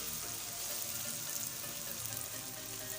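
Spice masala and tomatoes frying in a pan for egg gravy, a dense, steady hiss of sizzling oil throughout, close and even, with no talking.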